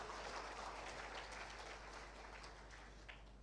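Congregation applause during a church testimony service, a steady wash of clapping at moderate level with a low hum underneath, continuing throughout without pause.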